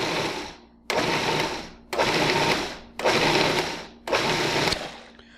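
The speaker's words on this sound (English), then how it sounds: "we're going to pulse this a few times until we get to our preferred consistency" A kitchen blender pulses salsa ingredients for tortillas and salsa in four short bursts, each starting abruptly and winding down, with brief pauses between; loud and close, no talking.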